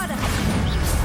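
A Bombarda spell blast in the video game Hogwarts Legacy, a loud crashing impact with a whooshing burst, close and dense throughout one brief moment.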